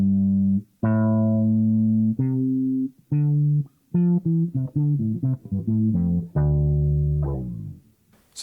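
Electric guitar played through a 3 Leaf Audio Proton v3 envelope filter pedal, a run of plucked notes and short chords with a rounded, vowel-like swell on each attack, close and loud with brief gaps between phrases.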